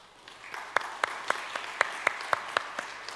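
A church congregation at a Sunday service claps to welcome a newlywed couple, a fairly faint, sparse, evenly spaced round of claps over a quiet room.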